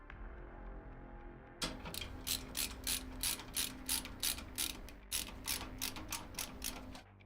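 A ratchet tool tightens a part on a PC build, its pawl clicking in a steady run of sharp, evenly spaced bursts close to the mic over a low background hum, with a brief break midway.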